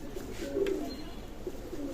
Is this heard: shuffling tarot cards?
no